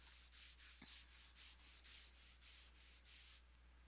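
A drawing pencil held on its side and rubbed back and forth on paper makes a close, soft scratchy hiss, repeated in about a dozen even strokes before stopping.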